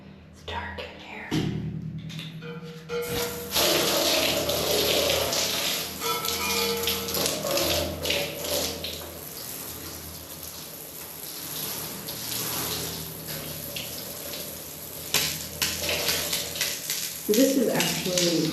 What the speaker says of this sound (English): This is actually boiler water,